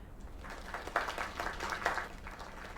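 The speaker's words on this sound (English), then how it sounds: "Another round of applause." Scattered applause from a small crowd, moderate and somewhat distant, with claps rising and falling for a few seconds.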